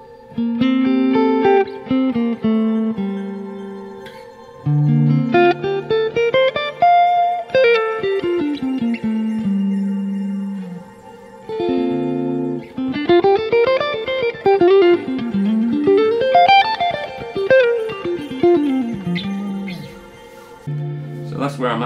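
Clean electric guitar notes and arpeggios played through a Fractal Audio FM3 shimmer reverb ring out with a lush, shimmering reverb tail, played alone in several phrases with brief pauses.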